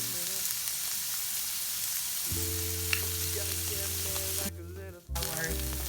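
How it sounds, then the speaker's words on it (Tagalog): Garlic, onion and tomato paste sauté in a pan for vegan paella, a steady close sizzle with occasional stirring scrapes, a low hum running beneath and a brief dip near the end. "So let's saute our garlic and onion. Our tomato paste."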